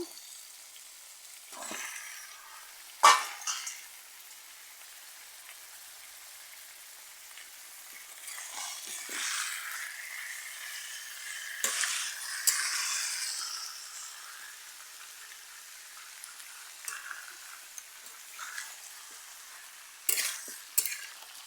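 Meat frying in a pan with stirring, set for a spiced meat dish: a quiet, steady sizzle broken by several sharp scraping and stirring bursts, with no voices.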